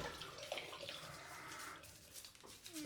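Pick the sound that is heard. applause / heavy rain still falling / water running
water running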